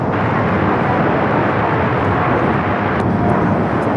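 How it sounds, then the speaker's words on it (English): An Embraer E-175 jet in Washington State Cougars livery takes off from LAX, a loud, dense, continuous engine roar that fills the whole span without letting up. "taking off to Boise on the E-175, the Washington State Cougars livery"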